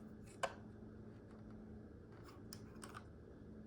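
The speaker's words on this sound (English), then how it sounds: "And the landing gear can also fold up." Lego spaceship landing gear folding up: a sharp plastic click near the start, then a few faint ticks and snaps of small bricks moving against a quiet background.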